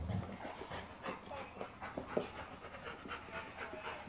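Golden retrievers wrestling pant heavily and rapidly with occasional whimpers and scuffling, fairly faint and close, no clear growl standing out.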